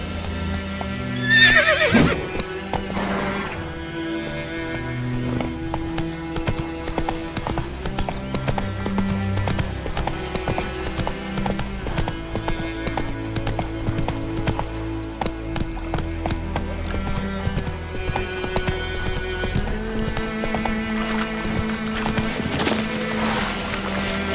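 Horse hooves clip-clop at a gallop with a whinny in The Witcher 3, the rapid steady beat running throughout under game music and ambient sound.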